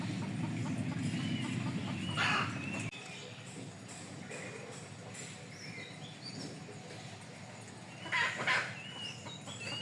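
Unafraid chickens cluck and call nearby in a couple of short bursts over a continuous outdoor background hum, moderately faint, with no clear talk.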